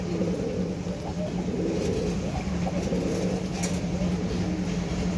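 Large fancy pigeons coo in soft repeated low calls, close by, over a steady background hum.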